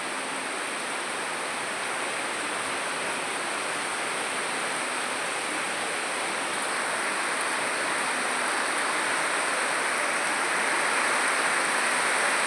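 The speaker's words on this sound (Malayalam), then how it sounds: "മഴ കൂടി വരാൻ തുടങ്ങിയിട്ടുണ്ട്" Heavy rain falls steadily in Palakkad, a dense broadband hiss that swells slightly louder toward the end, with wind in the mix and no voices.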